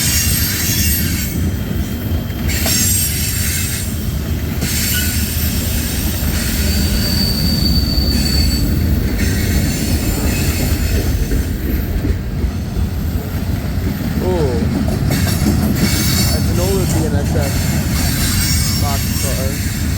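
CSX freight boxcars roll slowly past on the Old Main Line, their steel wheels squealing and grinding loudly against the rails. Continuous clanking rumbles underneath, and a voice speaks briefly over it.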